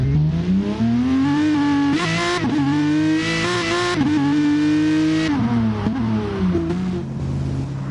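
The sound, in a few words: race cars pulling out of the pits at Red Bull Ring, racing game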